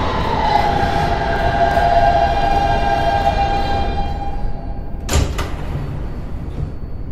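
Subway train doors sliding shut in a Roblox simulation of a Kawasaki R160B G train on the IND Crosstown Line, heard as a single sharp thud near the end over a steady hum of the stopped train and a chime tone.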